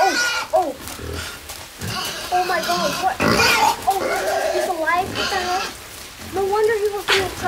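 Pig oinks in a video game sound repeatedly through the clip, grunting squeals in bursts, close and fairly loud, mixed with players talking over them.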